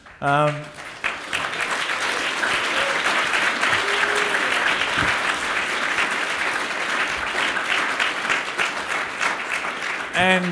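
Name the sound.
audience applauding the panellists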